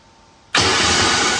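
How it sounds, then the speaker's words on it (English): A 2300+ horsepower twin-turbo LS engine cold-starts: near silence, then an abrupt loud catch that settles into a steady, heavy idle roar held close by. "we're gonna go ahead and do our first cold starter of the day, get everything warmed up"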